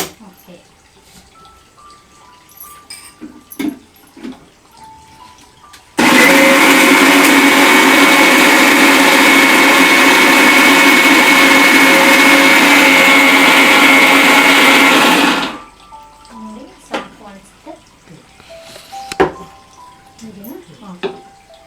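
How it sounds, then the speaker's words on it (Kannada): A mixer grinder whirs loudly and continuously for several seconds grinding coconut into a fine paste, surrounded by quieter kitchen clatter before and after. "ಇದನ್ನ ನುಣ್ಣಗೆ ರುಬ್ಬಬೇಕು ನುಣ್ಣಗೆ ರುಬ್ಕೊಂಡ್ರೆ ಅದು ಟೇಸ್ಟ್ ಆಗಿರುತ್ತೆ"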